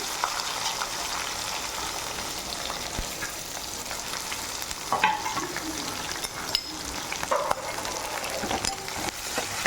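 Chopped onions, crushed garlic, curry leaves and green chillies sauté in a pan with a constant loud sizzle, a few spoon scrapes standing out as they are stirred, with no voices.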